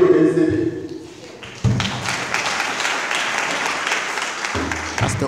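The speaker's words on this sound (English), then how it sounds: "all giving a hail of applause" Audience applause at a city welcome ceremony with the city council, Liberia, sustained clapping from a crowd following a brief stretch of talk, steady and fairly loud throughout.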